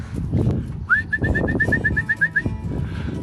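Racing pigeons just after landing, with a rapid rhythmic series of about a dozen whistling wing or call notes over soft cooing and bird rustling nearby.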